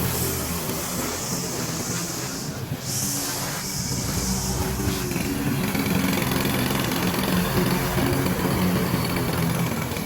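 A lawn mower engine runs steadily and loudly throughout, a constant broadband drone with no breaks, heard close up while mowing a residential lawn.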